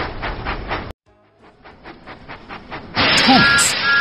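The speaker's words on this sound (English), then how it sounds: "Thomas puffed proudly into Farmer McCall's farm." A steam engine puffs in a Thomas the Tank Engine Load and Haul children's game, with rhythmic chuffs up close, a short pause, more puffing, then a loud hiss of steam with a whistle.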